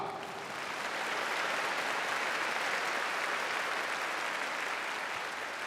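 Steady applause from a pro-wrestling crowd for a New Japan Pro-Wrestling wrestler backstage, heard as a soft, distant, even roar of clapping that swells slightly and holds.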